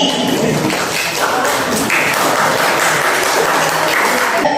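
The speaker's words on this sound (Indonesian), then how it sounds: "tepuk tangan dulu dong untuk dua pemateri kita yang keren ini" A seminar audience gives a dense, steady round of applause for two speakers, many hands clapping together for about four and a half seconds.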